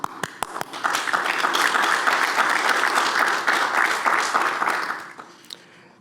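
Audience applause at a medical school pledge ceremony for a graduating Bachelor of Medicine class, a steady mass of clapping from a large crowd that swells after a few scattered claps and fades out near the end.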